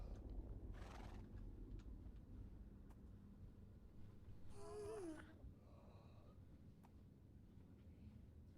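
A horse in the block-building game Minecraft whinnies once, a short wavering neigh mid-clip, fairly faint over a low steady background hum with a soft snort-like breath earlier.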